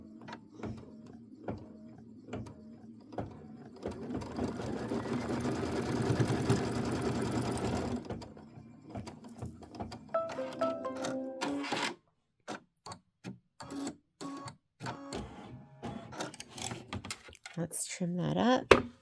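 An embroidery machine stitches across fabric for a Kimberbell Hello Sunshine pieced block, running as a steady mechanical whir that swells for several seconds, then breaks into short clicks and bursts, with talk over parts.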